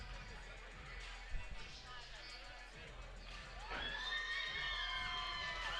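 Crowd at an MMA event cheering and shouting for a fighter as he is introduced, a far, diffuse roar with an announcer's voice over it and whistles rising near the end.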